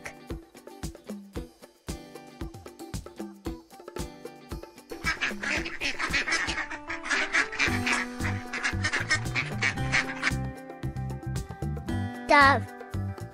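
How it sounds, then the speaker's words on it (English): A duck quacks in a cluster of raspy calls midway through, set against light background music with brief plucked tones. "Duck."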